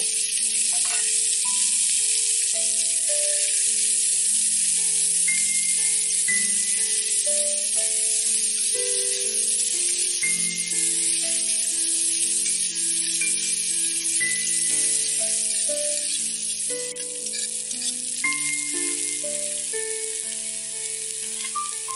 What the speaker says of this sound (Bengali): এবার কড়াইতে দেব অল্প পেঁয়াজ কুচি। মিনিট দুয়েক আমি মিডিয়াম আঁচে ভেজে নেব।